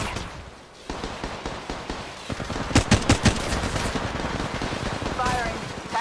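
Sustained machine gun fire in Apex Legends Mobile, rapid loud bursts with sharper cracks midway, while a voice speaks over the gunfire.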